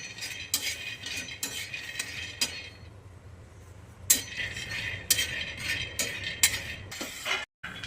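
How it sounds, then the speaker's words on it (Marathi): Peanuts roasting in a pan over a low gas flame are stirred with a metal spoon, giving scattered clinks and scrapes against the pan over a steady low hum, with no talking. "बारीक गॅसवर मस्त असं खरपूस होतपर्यंत भाजून घेऊया शेंगदाणे"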